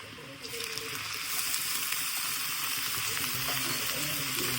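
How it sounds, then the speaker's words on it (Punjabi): Finely chopped garlic and ginger hitting hot oil for carrot pickle, a dense steady sizzle that swells after the first half-second and keeps crackling close up, with some stirring. "ਹੁਣ ਹੋ ਗਿਆ ਤੇਲ ਗਰਮ ਆਪਾਂ ਇਹਦੇ ਵਿੱਚ ਬਰੀਕ ਕੱਟ ਕੇ ਇੰਨਾ ਕੁ ਲਸਣ ਪਾਵਾਂਗੇ ਬਰੀਕ ਕੱਟ ਕੇ ਅਦਰਕ ਵੀ ਪਾ ਰਹੇ ਹਾਂ ਆਪਾਂ"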